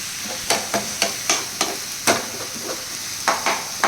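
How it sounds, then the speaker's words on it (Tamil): Ginger-garlic paste sautéing in a pan for squid thokku, a continuous sizzle punctuated by a regular series of sharp spoon scrapes and taps, close-up with no voices. "இஞ்சி பூண்டு பேஸ்ட்டு போட்டு நல்லா உள்ளி நல்லா வதக்கிடுங்க"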